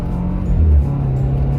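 A 2016 Volvo S60 R Design with a DSG gearbox accelerates, its exhaust giving a loud, close, deep engine drone that swells briefly mid-clip, with no talking over it.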